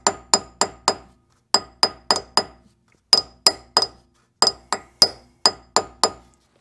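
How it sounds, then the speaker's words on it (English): A ball peen hammer taps around the edge of a rear brake disc on a Renault Scenic 3, giving sharp metallic clinks in quick bursts of three or four strikes separated by short pauses, close and loud with no talk. "Choosing a ball peen all nicely around the edge."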